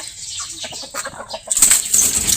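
Chickens flap their wings close by in quick bursts, followed by a louder flurry of fluttering and rustling near the end.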